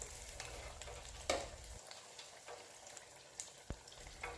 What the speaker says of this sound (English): you will just put the onion rings in, just like I did into this fryer